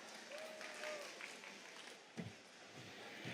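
An audience at a Seoul startup pitching event applauds as the next presenter takes the stage: soft, steady clapping heard from a distance at low volume, with a faint thin tone drifting over it.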